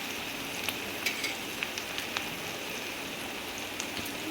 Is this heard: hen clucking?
no